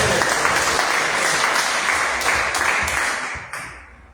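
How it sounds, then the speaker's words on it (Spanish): Loud congregation applause in a church, a dense sustained wash of clapping that holds steady for several seconds before thinning and fading out. "denle un fuerte aplauso al Señor"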